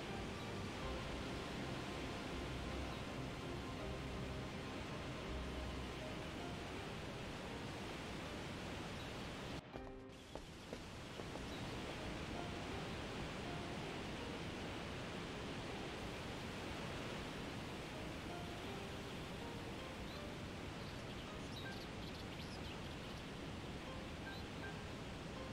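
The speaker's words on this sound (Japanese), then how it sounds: "何の音だ？ 滝の水音みたい。" Steady, broadband rush of a waterfall in Shenmue II, a continuous dense wash of falling water that holds an even level throughout, with a brief dip near the middle.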